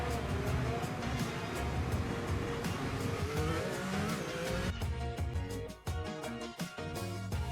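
A Formula 1 car in the F1 25 racing game spins out, engine roar and tire squeal building, then choppy skidding bursts and stuttering engine sound as the car loses grip.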